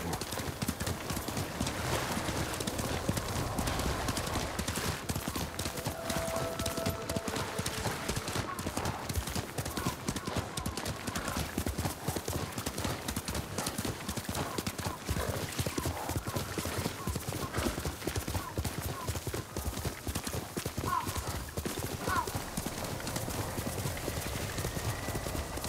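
Horse hooves clip-clop at a steady walking rhythm in the Ghost of Tsushima video game, close and continuous, with occasional faint bird calls in the background.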